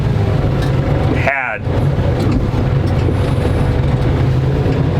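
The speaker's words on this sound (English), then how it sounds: "I'm trying to run a tractor and talk to you about a very important subject at the same time here" A tractor engine runs loud and steady close by, its low rumble continuous throughout, with wind buffeting the microphone and a brief voice heard over it.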